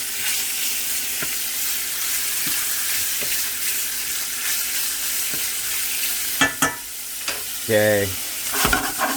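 Chunks of bacon fry in a pan with a steady close sizzle and faint pops, then a few utensil knocks near the end as a voice speaks briefly.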